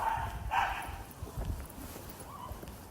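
A big dog on a walk near Higashiyama, Japan, gives a couple of short barks early on, moderately distant amid outdoor street ambience.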